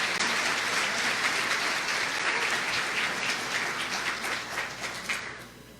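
Sustained audience applause after a lecture on legal measures, a loud, even wash of many hands clapping that fades slightly toward the close.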